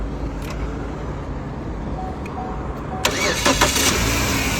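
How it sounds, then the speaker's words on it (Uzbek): A car engine, running with no battery fitted and started from a power bank, cranks and catches partway through, rising to a steady, louder running note after the start. "60 amperli mashinani yoqib beryapti mana"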